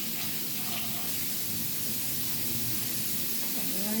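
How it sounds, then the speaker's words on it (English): Tap water runs steadily over lettuce leaves being rinsed for a BLT sandwich, a broad hissing spray that holds at an even level throughout with no talking. "so I'm going to rinse this lettuce"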